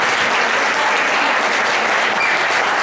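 A church congregation applauds a couple who have been asked to stand, a dense, steady wash of many hands clapping throughout with no pauses.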